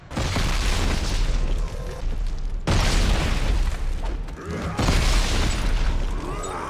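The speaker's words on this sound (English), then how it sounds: "Oh, yeah, it is a rocket launcher." Rocket launcher blasts in Dead Space 3 hit as three loud, roaring explosions in quick succession, each a sudden broadband burst trailing into rumble, with people talking faintly underneath.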